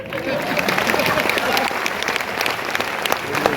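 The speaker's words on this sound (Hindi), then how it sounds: "तो ऐसे ईमानदार लोगों के लिए दिल से ताली बजाओ" Audience applause fills a hall at a marketing speech event in Kolkata, dense continuous clapping from a large crowd, loud and sustained without a break.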